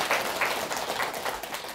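An audience at a temple Dharma talk for Buddha's Birthday breaks into a short patter of scattered, fairly faint applause.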